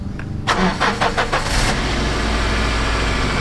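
A car engine with dual exhaust cranks and fires up with a few rapid bursts, then settles into a loud, steady rumbling idle close by.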